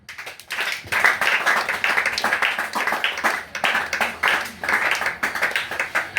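A church congregation claps and cheers in praise of Jesus, steady rhythmic clapping building after a quiet start and continuing loud and lively throughout.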